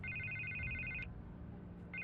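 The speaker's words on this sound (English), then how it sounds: "I can't get the phone to stop ringing." A telephone rings in a Batman: The Telltale Series game scene, an electronic ringtone trilling in two bursts separated by a short pause, quiet over a low ambient rumble.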